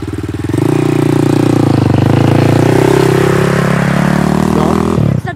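A Kayo 250 dirt bike engine kicks up and revs hard and steady for several seconds, loud and close, then cuts off abruptly.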